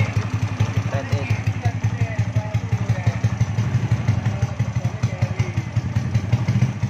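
An up-tuned 117cc C series motorcycle engine with a 26 carburetor idles nearby, keeping a steady, rapid, lumpy put-put rhythm. Voices are heard over the engine.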